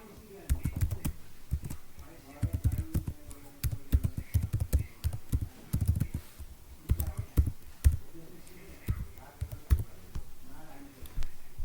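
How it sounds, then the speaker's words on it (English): An email address is typed on a computer keyboard, with rapid, close key clicks in uneven bursts running steadily through the whole stretch. "my email address I'm going to type here."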